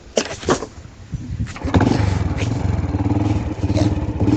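A Honda Wave 100 motorcycle starts up with a few short mechanical clicks and cranking sounds, then settles into a steady, close idle that keeps pulsing evenly.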